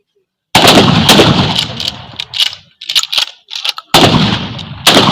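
Gunfire during shooting practice in prone and standing firing positions: loud, sharp broadband blasts, one near the start and two close together near the end, with people talking in between.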